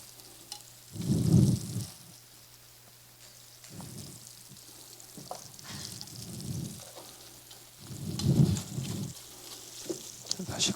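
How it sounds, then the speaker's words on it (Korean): Scraping and stirring in a pan of sauce, in several bursts of a few seconds with quieter gaps, against a steady low hum; no talking. "자, 잘 저어줘요."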